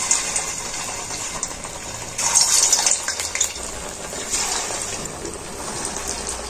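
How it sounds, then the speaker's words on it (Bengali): Raw potato and semolina snack dough sizzles in hot oil in a wok, a steady close frying hiss with brief louder surges and occasional stirring, no talk. "দেখতে পাচ্ছ এই যে কড়া থেকে ছেড়ে ছেড়ে যাচ্ছে, এইভাবেই আমি ভেজে নেব।"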